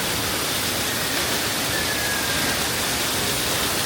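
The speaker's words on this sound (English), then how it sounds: "Look at all these water features." Water features splash and spray continuously in a kids' pool area aboard the Royal Caribbean cruise ship Liberty of the Seas, a dense, even rush of falling water with no talk.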